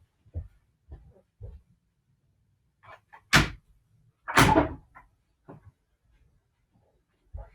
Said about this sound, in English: I'm going to go open the other window because it's getting warm in here